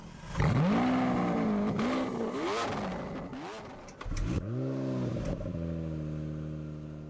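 A 730-horsepower car from The Grand Tour video game revs loudly, its engine pitch rising and falling through several surges, with a brief drop before it roars back steady and strong.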